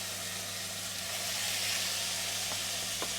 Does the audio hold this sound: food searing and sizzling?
yes